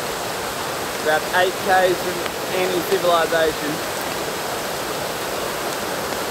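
Rushing water from a remote waterfall deep in a Sunshine Coast rainforest gives a steady broadband hiss throughout, with someone speaking briefly over it partway through.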